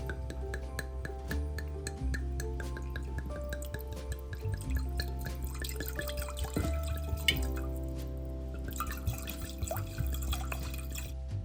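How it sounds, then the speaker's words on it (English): Wine poured into a saucepan, heard as a soft, quiet stream of dripping and trickling liquid with faint clinks, continuing steadily without talk. "we're gonna put about 2 cups of this into a saucepan."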